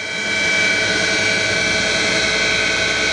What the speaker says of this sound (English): That starts the grinding wheel.